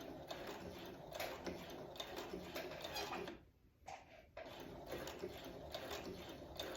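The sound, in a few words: Brother CS7000x sewing machine stitching a dress facing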